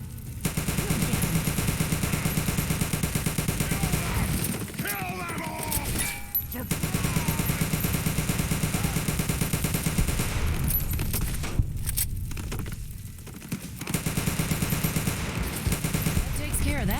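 Sustained automatic rifle fire in Fallout 3, from a weapon likened to a BAR, in long, loud, rapid bursts with short pauses between them and occasional talking over the shooting.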